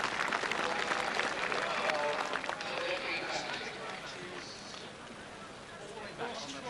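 Racecourse crowd at the 1986 Cheltenham Festival applauding a winning favourite, a broad wash of clapping and crowd noise from a large grandstand, strongest at first and easing slightly, with indistinct voices mixed in.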